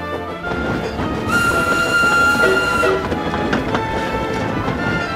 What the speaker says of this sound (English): Goodness me, this is a long train.